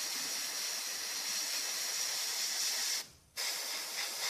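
Airbrush spraying thin model paint at relatively high pressure, a steady close hiss that cuts out briefly for a moment before resuming, no talking.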